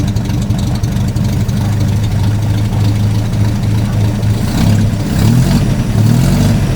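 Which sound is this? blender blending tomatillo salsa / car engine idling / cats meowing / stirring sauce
car engine idling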